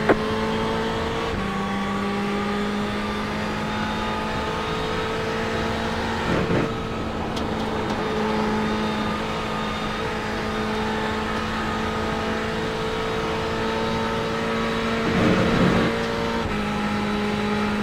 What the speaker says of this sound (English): Left side. Car on your left.